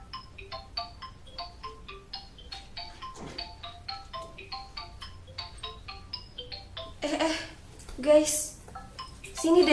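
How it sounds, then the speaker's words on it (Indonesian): A telephone ringtone rings repeatedly in a quick, regular melodic pattern at moderate loudness. Later there is some clattering and faint voices. "Telepon Kisaha sih."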